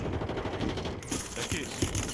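Rapid automatic gunfire in a Warzone firefight, loud and continuous over about two seconds, with overlapping bursts from more than one weapon and sharper cracks near the end.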